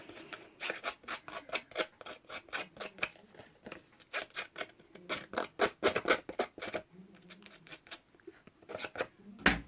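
Paper tags for a mini album are cut with scissors in rapid, close snips, dozens of crisp strokes in uneven bursts with brief pauses and light paper rustling, no voices.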